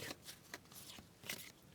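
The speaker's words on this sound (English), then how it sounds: "Now I'm going to shuffle again, see what we're shown." A deck of cards is shuffled during a spiritual card reading, giving soft, quiet riffling bursts in quick irregular succession, close by with no voices.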